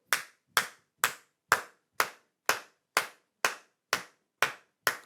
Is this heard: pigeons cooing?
no